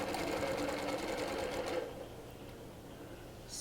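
Sewing machine stitching a curved cross-hatch quilting line inside a triangle with a quarter-inch foot, a steady close whirring run that drops to a softer level midway.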